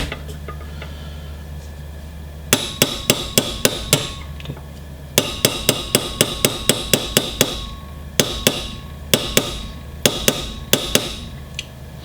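Hammer blows drive a punch against an SKS rifle receiver, sharp metallic strikes landing in fast clustered runs with brief pauses between groups, close and loud over a steady background hum.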